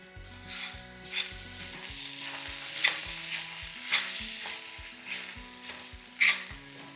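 Capsicum fries in a pan with chili powder and coriander powder, a steady sizzle broken by repeated scraping stirs, alone and fairly close.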